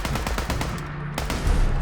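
A modded automatic weapon in Fallout 4 fires a rapid, continuous burst of loud, close shots, with a brief pause before the fire resumes.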